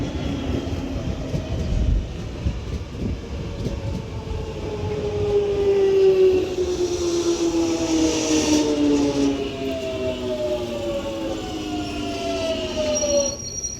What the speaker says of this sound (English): now arriving in is going to be a London Underground Jubilee Line, which is off to Stratford